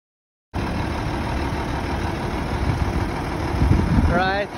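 A 1984 Mack truck idles after a short silence, a steady low diesel rumble close by, with a voice talking over it near the end.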